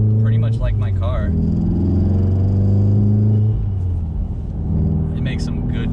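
A Volkswagen Golf R engine drones and rumbles steadily from inside the cabin while driving, its low tone shifting as revs change, with a person talking over it early on.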